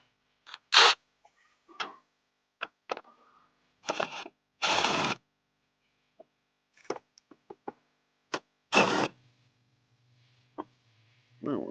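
A power tool zaps four 8mm bolts off the top of a Chevrolet Silverado air box, in several short separate bursts with small clicks and knocks between them in a quiet garage.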